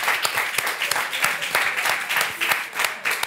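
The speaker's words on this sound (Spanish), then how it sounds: "Un aplauso para Albert." Audience applause for a guest named Albert during a live Spanish talk show taping, a dense steady patter of many hands clapping throughout with a faint voice mixed in.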